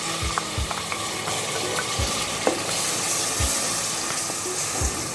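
Onion paste fries in three to four tablespoons of hot oil, giving a steady loud sizzle with scattered low thumps and clinks as it is stirred, close by and free of speech.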